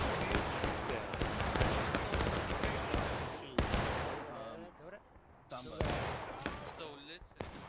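Massed musket gunfire in a War of Rights battle on the West Woods map with about 260 players: sharp, repeated cracks and rolling volleys close by, layered over constant battlefield din with shouting voices.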